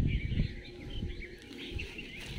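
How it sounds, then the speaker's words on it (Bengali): Birds chirp and call near a quiet jungle edge, brief, fairly faint tweets over soft outdoor background noise. "আপনারা শুনতে পাচ্ছেন অসাধারণ পাখির"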